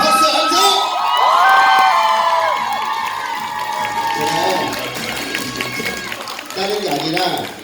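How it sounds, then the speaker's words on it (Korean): Preschool children at a daycare cheer and shout loudly for their teacher, a lively crowd of high voices whooping with some clapping, rising early and then tapering, with voices speaking over it. "박수 함성."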